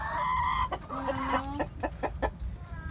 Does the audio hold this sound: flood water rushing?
no